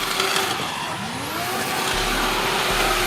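Drift car at a South East Asia Drift Series battle spinning out, with loud engine roar and rising, sliding tire squeal that carries through, heard from a trackside distance.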